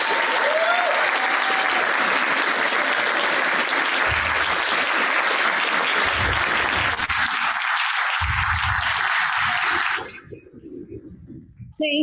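A congregation applauds volunteers at a church Sunday service, with sustained, dense clapping for about ten seconds before it thins to a few scattered claps and quiet.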